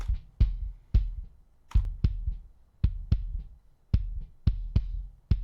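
A drum kit played through a DBX compressor, recorded and mixed without samples: punchy, evenly spaced kick and snare hits with cymbal accents, tightly compressed and close, with no talking.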